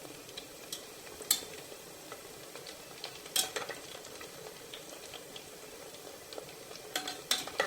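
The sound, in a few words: stirring pastries cooking in a pan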